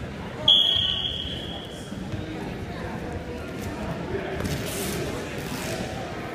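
A sharp electronic alarm buzzer sounds briefly at a wrestling match, a single loud tone near the start that then fades under a noisy gym crowd with voices talking and shuffling.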